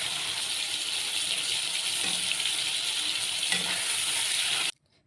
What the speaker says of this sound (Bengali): চিংড়িগুলোকে আমি একটু হলুদ মরিচ আর লবণ মাখিয়ে নিয়েছি এবং গরম তেলে এটাকে হালকা ভেজে নেব